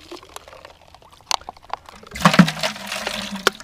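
Water poured into an ice fishing hole in the frozen lake, a few scattered clinks and splashes giving way to a louder sloshing gush, close by and without talk.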